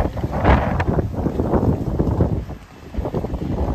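Wind gusting across a rooftop on an overcast, rainy day, buffeting loudly and almost continuously, with a short lull near the end.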